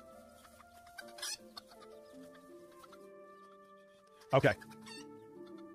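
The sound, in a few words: loud birds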